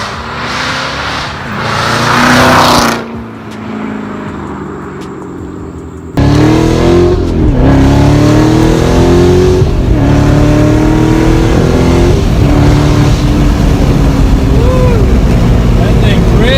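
A loud 2017 Corvette C7 Z06 with an Armytrix X-pipe valvetronic exhaust revs hard nearby, with sharp throttle blips on downshifts and a sustained roaring exhaust.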